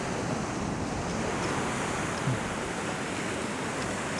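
Ocean waves and surf crash against the rocks in strong wind during rock fishing in huge swells, a loud, dense, continuous roar of water with wind noise and no voices.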